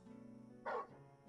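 In the Final Fantasy XVI video game, the hound Torgal gives one short bark over a soft background hum of music.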